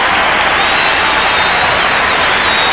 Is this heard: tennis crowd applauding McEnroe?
yes